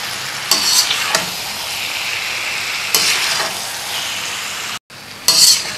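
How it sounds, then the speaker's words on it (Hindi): Boiled cauliflower and masala stirred in a karahi: loud, close sizzling with repeated scraping strokes of a spoon, a brief drop out before the last bursts. "अब इसको अच्छी तरह हमने मिक्स करना है ताकि मसाला अंदर तक जाए गोभी के"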